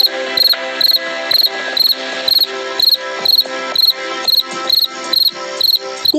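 A cricket chirps in a steady, even rhythm of short bright pulses, about two per second, loud and close against a faint background hum.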